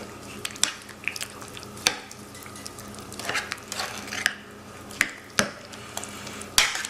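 Seasoning being stirred together for baby back ribs, heard as soft scraping and light clicks of a utensil against a container, with occasional sharper taps, close and fairly quiet.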